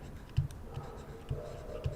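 A pen or marker tapping and stroking on a board in three soft, evenly spaced knocks, close and fairly quiet, with no voices.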